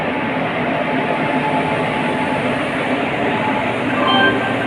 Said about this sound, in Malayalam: ട്രെയിൻ ഓൺ ചെയ്താണ് ഇട്ടിരിക്കുന്നത്